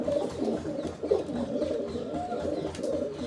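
Pigeons coo continuously in low, throaty, rolling calls, several birds overlapping close by with no talking.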